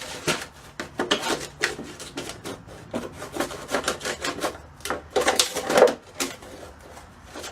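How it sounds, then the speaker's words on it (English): Scissors rasp and scrape in short, irregular bursts while cutting around a plastic plant pot. The cuts are close and fairly loud, with crinkling plastic between them. "And now I'm going to cut around this plant, this pot."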